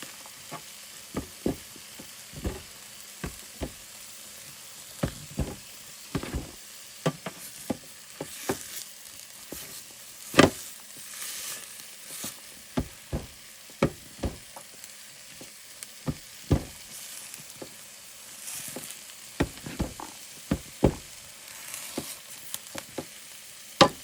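Ground beef browns in a pan being canned, giving a continuous close sizzle broken by frequent sharp scrapes and knocks of stirring, with no talking.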